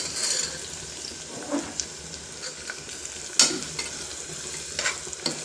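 Sliced onions and green chillies fry in a pan with a moderate, steady sizzle. Intermittent scrapes and clinks from stirring cut through it, with one sharper knock midway.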